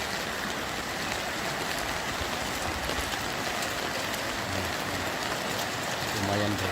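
Heavy rain pouring steadily during a flood in the town of Lahat, a dense, constant hiss of falling water with a faint voice speaking underneath.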